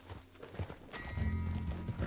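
Horse hooves clip-clopping at a steady walking pace in Red Dead Redemption 2, moderately close, with a low rumbling background under the steps and no speech.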